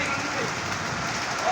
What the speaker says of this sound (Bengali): অঝোরে বৃষ্টি নামতেছে, কীভাবে আমরা কাজে যাব।